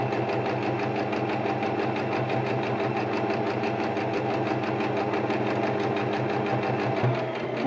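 Close up, a sewing machine stitches a fabric face mask with a steady rapid buzzing whir that runs evenly, then briefly shifts near the end as it slows.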